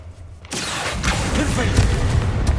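Spell explosion from the Confringo fire curse in the video game Hogwarts Legacy, a loud burst that swells after a quiet half second and rumbles on with continuous crackling blasts, with a voice mixed in.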